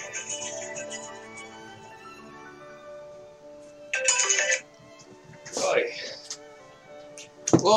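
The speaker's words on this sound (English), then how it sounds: "that was my alarm for laundry" A phone alarm ringtone sounds quietly as a repeating melodic tone pattern, with short bursts of speech and other noises cutting in over it.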